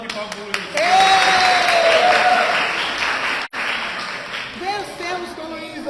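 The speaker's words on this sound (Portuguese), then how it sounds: "Ação de palmas." A church congregation bursts into applause during a Sunday school gathering, loud dense clapping that rises quickly, briefly breaks off, then continues more loosely as voices come through.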